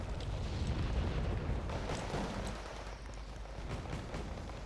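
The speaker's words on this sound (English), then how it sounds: "yeah, it's Potnos, it's mortars." Mortar explosions rumble in the video game Wargame Red Dragon during urban combat, a low, continuous booming barrage that sounds distant and muffled and stays fairly steady throughout.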